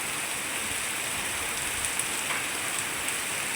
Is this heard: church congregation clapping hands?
no